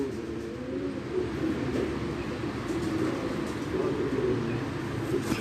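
Fakir gul pigeon held in a handler's hands, giving low, continuous cooing that rolls steadily through the whole stretch at moderate loudness, with no talk over it.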